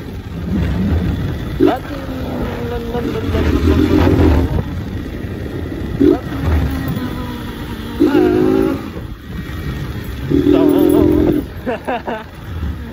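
Riders on a Honda CG 160 Fan motorbike imitate its engine with their voices, producing repeated droning vocal vroom bursts with rising and falling pitch, close and loud, over a muddy trail ride.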